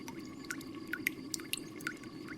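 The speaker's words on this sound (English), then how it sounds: "The condensed liquid drips down into this separator" Condensed lavender oil liquid falls drop by drop into a Florentine flask separator, each small, close drip landing clearly over a steady low hum of distillation equipment.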